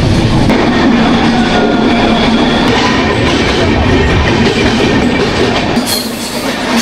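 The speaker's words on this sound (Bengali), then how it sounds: "ট্রেনের জার্নিটা হেভি ভাই, দুর্ধর্ষ ট্রেনের জার্নি" A loud, continuous rumble and rattle of a train running on rails toward Araku Valley, heard from inside the carriage, with wheel clatter throughout and a brief lighter hiss near the end.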